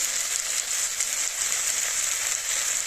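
Ginger-garlic paste sizzles in a pan with figs for a vegetarian fig curry: a steady, close, bright frying hiss runs evenly throughout.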